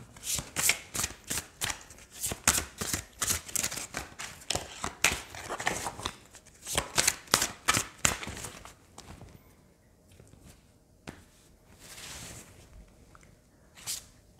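Oracle cards are shuffled by hand in repeated quick bursts of papery riffling and flicking, close and crisp, with quieter slides and taps toward the end and no talk.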